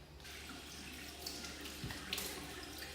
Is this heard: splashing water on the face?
yes